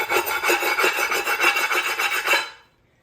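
A tool scrapes a fused piece off a kiln shelf after a kiln opening, giving a loud, close, rhythmic rasping that runs for over two seconds and then stops abruptly into silence.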